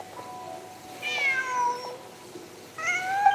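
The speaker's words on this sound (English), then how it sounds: "Just a cat." Cat meowing in the Genshin Impact video game, two clear drawn-out meows separated by a pause, close and distinct over quiet background.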